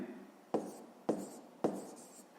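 Pen or chalk strokes while writing out a fifth-grade math solution, three quiet scratchy marks spaced about half a second apart over a low background hiss.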